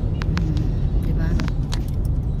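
Steady roadway rumble of cars flowing along a city street past condominiums on an early Sunday morning, a continuous low drone with faint passing swells and a few brief clicks, no talk.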